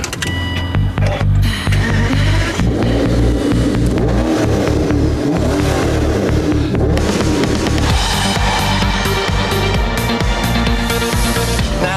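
An Aston Martin DBS V12 engine warming up idles loudly and steadily with a rough mechanical burble, rising slightly in revs, continuous and close with no talk.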